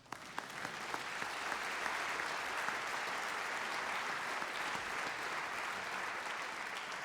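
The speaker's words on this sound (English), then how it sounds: "You can applaud that." A large audience applauds warmly at a memorial celebration honouring a Macedonian-Canadian father and grandfather, dense steady clapping filling the room without a break.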